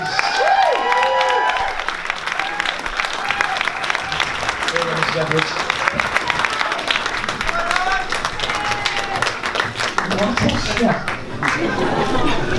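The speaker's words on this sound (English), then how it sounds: "Round of applause, please." A crowd applauds a speaker being welcomed at a school event, with sustained clapping and some cheering mixed with nearby chatter and a voice speaking over it.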